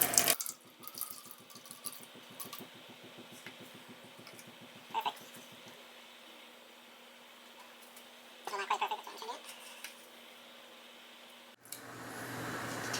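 Water pours from a tap into a container for a pizza dough preferment, first a fluttering stream, then a steadier flow with faint clinks, before a sharp stop and a rustle.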